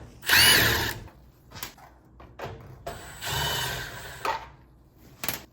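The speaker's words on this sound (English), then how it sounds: "Then a couple screws, one's right here, other one's down there. Unscrew that." A power drill backs screws out of a top-load washer panel in several short whirring bursts, close and fairly loud, separated by brief quiet gaps and handling noises.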